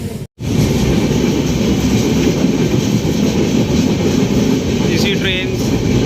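An intercity express heading between Amritsar and New Delhi rolls along as the Delhi–Pathankot train passes close by on the other track, a loud continuous rumble and clatter after a brief dropout, with a voice speaking over it.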